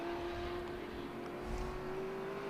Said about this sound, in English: there goes one of the red Camaros as well, being chased down by the Datsun